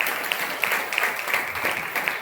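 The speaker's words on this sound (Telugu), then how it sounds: "ఒకసారి అందరికి చప్పట్లు కొట్టి ప్రభువును స్తుతించండి." A church congregation claps together in praise, with a dense, steady round of many hands filling the room.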